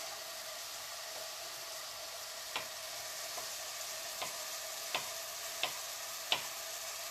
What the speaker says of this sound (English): So I've just sauteed that a little bit here